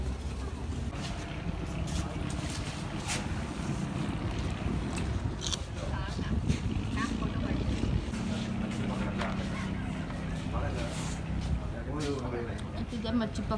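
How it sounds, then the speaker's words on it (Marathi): A houseboat cruising on the backwaters of Kerala gives a steady low engine drone and water wash, with wind buffeting the microphone and voices talking over it throughout. "ही आमची बोट."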